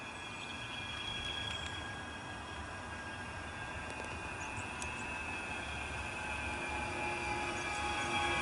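A tram rumbles and rolls steadily at a moderate distance, with faint wheel squeal and hum building slowly as it pulls away from Dane Road in the UK.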